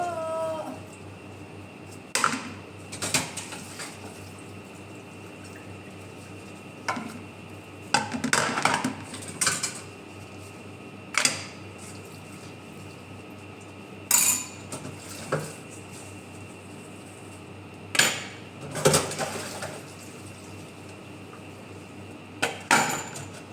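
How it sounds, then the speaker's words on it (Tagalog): Plates and cooking pots being washed by hand, with sporadic clinks and clatters of dishes and utensils over a quiet steady background hum. "Kahit naghuhugas ng mga plato at kaldero"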